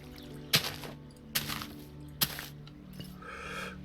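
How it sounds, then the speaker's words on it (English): Water source blocks being placed one after another in a modded Minecraft world, three soft splashy bursts at a steady rhythm over a quiet musical backdrop, closing with a faint fourth splash. "fill these water source blocks in"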